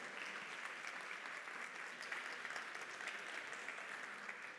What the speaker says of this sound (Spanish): el aplauso de ustedes para recibirla aquí